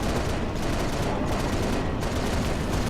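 Dense, continuous gunfire in a Halo Reach battle, a loud unbroken barrage of rapid shots with no pauses or voices.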